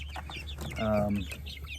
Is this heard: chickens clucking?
yes